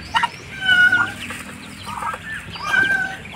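Duck chicks being fed at feeding time make short, bright peeping calls in small clusters, some close and loud, repeating irregularly over a few seconds.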